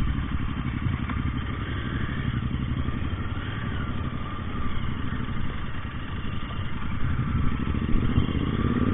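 A Royal Enfield GT 650 motorcycle with a modified exhaust idles nearby, producing a steady, loud, low throbbing rumble with fast regular pulses that carries on unbroken throughout.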